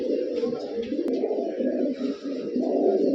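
Pigeons, including a female Shahjanpuri and highflyers, coo in a low, continuous murmur that holds steady throughout, with a brief sharp tick near the middle.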